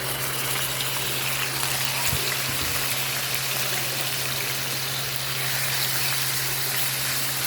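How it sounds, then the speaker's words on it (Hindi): Chopped onions hit hot oil with fried cumin for a chicken liver dish, giving a steady, loud, broadband sizzle that runs unbroken throughout with no voices. "तो अभी देखें तेल गरम हो गया और ज़ीरा भी जो है वो फ्राई हो गया है। तो अभी मैं इसमें ऐड कर दूँगी अनियन।"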